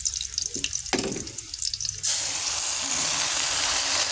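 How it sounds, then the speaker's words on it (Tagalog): Water gushes steadily into a cooking pot for Kapampangan corn soup with chicharon. It starts after a couple of seconds of quieter kitchen clatter and a brief knock, then runs loud and continuous to the end. "lagyan na natin ang tubig"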